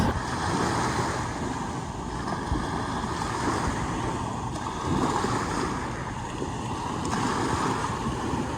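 Ocean surf rolls onto a beach at Isla Mujeres, Mexico, a steady broadband wash with gentle swells of louder breaking water. Wind buffets the microphone throughout and no one speaks.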